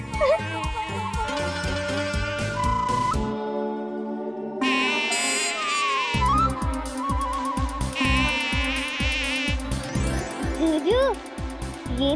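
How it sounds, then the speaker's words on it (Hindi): An animated mosquito buzzes in a cartoon scene, its thin whining drone rising and gliding over busy music and sound effects. Characters can be heard nearby. "देख ये मच्छर कौन है"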